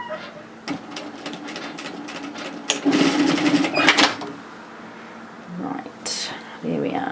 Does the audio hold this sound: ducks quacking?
no